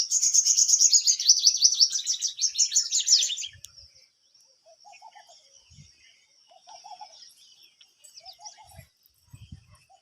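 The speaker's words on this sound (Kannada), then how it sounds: "ಗುಬ್ಬಿಗೋ ಸೌಂಡ್ ನೋಡ್ರಿ ಯಾವ ಥರ ಮಾಡ್ತಾರೆ" Sparrows chirp rapidly in a bright, busy burst for a few seconds, then only sparse, softer calls and faint clicks remain.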